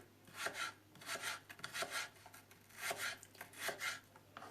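Steady rhythmic knife chopping of potatoes into thin slices on a board, quick even strokes, close and fairly quiet, with no talking.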